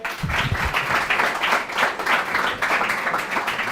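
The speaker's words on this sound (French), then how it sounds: "On applaudit s'il vous plaît." A school quiz show audience claps in a brief, steady burst of applause, close and evenly sustained throughout.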